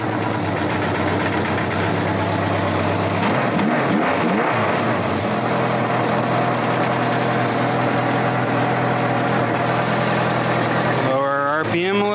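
A motorcycle engine idles steadily and is revved gently with small throttle blips during a carburetor sync. A brief rise in pitch comes near the end, and talk is heard under the running engine.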